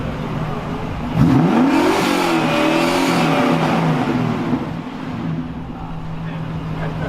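A Mercedes-Benz car engine revs nearby at a car meet in Los Angeles, its pitch climbing and dipping over a steady rumble, while people talk in the background.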